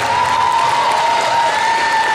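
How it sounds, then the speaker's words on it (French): Audience at a cosplay contest applauding prop makers on stage, a loud, continuous roar of crowd clapping with a faint tonal hum running beneath. "on applaudit les accessoiristes"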